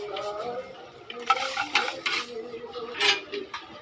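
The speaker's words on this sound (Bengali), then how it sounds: "ডালটা ভেজে নেবো তেলের উপর।" Lentils frying in oil as a utensil stirs and scrapes the pan, with intermittent clinks and rustling scrapes over a low sizzle, close and moderately loud.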